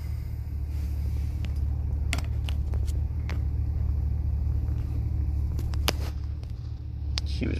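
A car driving on a road, heard from inside as a steady, loud low rumble of road and engine noise that continues throughout, with a few faint clicks and knocks above it.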